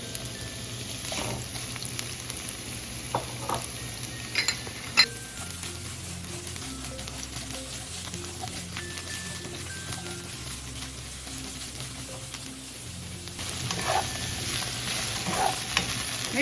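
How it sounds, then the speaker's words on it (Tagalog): Bitter gourd (ampalaya) is stir-fried in a pan, giving a steady close sizzle of frying with repeated stirring scrapes and light patter, and no talking. "piprituhin natin ng konti yung ating ampalaya para hindi mawala yung crunchiness niya"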